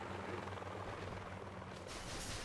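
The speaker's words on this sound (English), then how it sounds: "We got all the heavy choppers in the world that we could ever want" Heavy choppers flying in the Boom Beach video game, a steady dense rotor whir with low thudding pulses, continuous and fairly full, brightening slightly toward the end.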